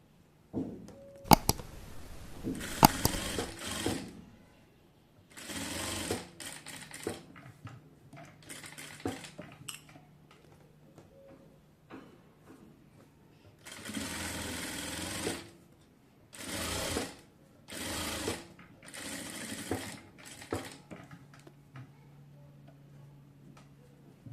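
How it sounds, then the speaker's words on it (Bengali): A sewing machine top-stitches a baby girl's frock in several bursts of fast, whirring needle chatter, stopping and starting with quiet pauses and small handling clicks between runs, close and moderately loud. "আমি একটি চাপ সেলাই দিয়ে দেব"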